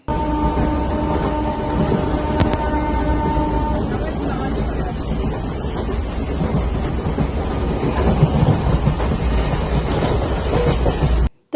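A passenger train runs with a steady low rumble and rattling carriage noise throughout, loud and continuous, with a brief tonal hum at the start and some indistinct voices in the background.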